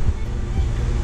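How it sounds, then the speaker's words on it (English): An electric fan runs in a garage during a car restoration, a loud, steady whooshing hum close to the microphone with a faint rhythmic pulse. "Sorry about the fan, but it's just too freaking hot."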